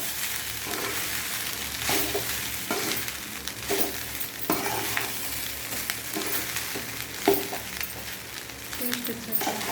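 Carrot rice being stirred in a hot pan, with steady scraping and mixing strokes over a continuous background sizzle, close and moderately loud.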